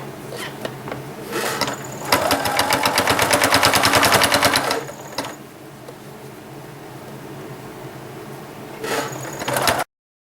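A domestic sewing machine stitches the back of a quilt with continuous prairie points, running in a fast, dense rattle for a few seconds, pausing to a quieter hum, then starting again in a short final burst.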